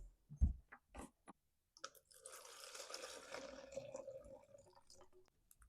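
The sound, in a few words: old fuel dumped out of a Stihl FS40C trimmer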